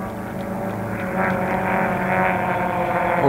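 The Cassatt racing airplane flies past during the Reno air races, its propeller engine giving a steady, moderately distant drone that swells slightly louder toward the end as it approaches.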